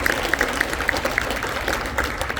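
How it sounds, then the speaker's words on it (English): An audience at a school wind ensemble spring concert claps for students, a brief burst of steady, moderately loud applause filling the room. "Let's give a round of applause to two outstanding students."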